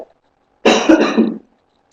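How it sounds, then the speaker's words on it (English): A single loud cough, close up, in an otherwise quiet moment. "I might be coughing a bit tonight"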